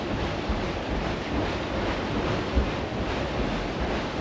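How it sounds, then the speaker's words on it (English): Flowing water rushes steadily around the rebuilt Zuppinger water wheel in a German city, a constant broadband wash heard close, with some wind buffeting the microphone. "So this is the Zuppinger water wheel."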